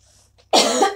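A single sharp, loud cough from one person bursts out after a near-silent moment, lingering briefly before fading.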